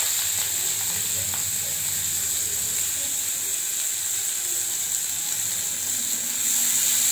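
Chopped onion frying in hot oil with black cumin seeds and green chillies, a steady, bright hiss of sizzling that runs unbroken throughout at an even level, close by, with no talk over it.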